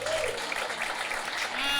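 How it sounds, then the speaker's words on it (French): Dense, loud applause from an audience at a business presentation in France, a continuous wash of clapping with cheering voices mixed in throughout. "Applaudissez encore plus fort."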